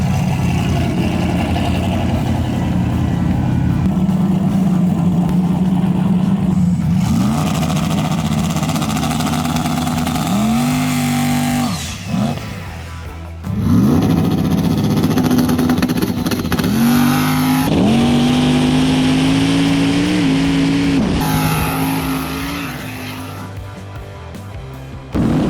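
Turbocharged Nova race car roaring hard down a drag track, engine note climbing through several loud rising pulls with brief breaks between shifts, then fading toward the end.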